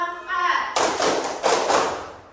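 A group of people in a class claps a counted rhythm pattern together, the first part carried by a voice, then loud broadband bursts of clapping, three clustered groups.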